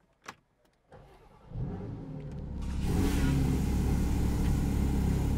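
A Porsche 718 Spyder RS engine starts up: a click and brief starter crank, then the engine catches and flares into a loud, rising rev before settling into a strong, steady idle close by.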